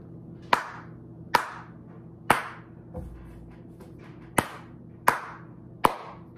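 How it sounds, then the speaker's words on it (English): Seven loud, sharp hand claps, unevenly spaced and sounding alone in a quiet room. "I can clap loud now"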